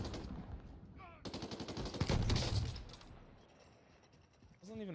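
Gunfire in Call of Duty, close rapid automatic bursts with a dense loud volley in the middle, then quieter game sounds, with talk over it.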